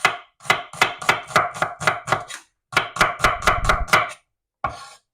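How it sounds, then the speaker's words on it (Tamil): Onion being sliced with a knife on a cutting board for chicken curry: two quick runs of sharp, evenly spaced chopping strokes, close and clear, separated by a brief pause, then one last cut. "வெங்காயம் உரிக்கிற தெரியும் தானே. இதை அப்படியே கட் பண்ணுறது."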